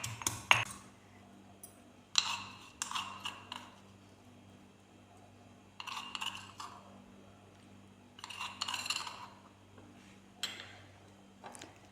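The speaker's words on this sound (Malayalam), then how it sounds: "രസത്തിന് ആവശ്യമായ വെളുത്തുള്ളി ഒന്ന് ചതച്ചെടുക്കാം" Garlic cloves for rasam being crushed in a kitchen: several sharp, clinking knocks arrive in separate clusters between quiet pauses, close and fairly faint, with no speech.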